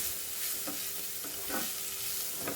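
Carrot coconut fry with salt and turmeric cooking in a pan, a steady soft sizzle broken by a few scraping stirs of a spoon, close and fairly quiet.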